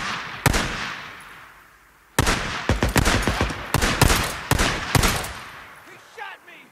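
Bursts of gunfire in the Days Gone video game, sharp loud cracks in clusters with a brief pause before a rapid volley, close and dominant.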